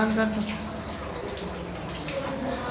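Tap water running close by while someone washes their face, a steady splashing wash with faint voices in the background.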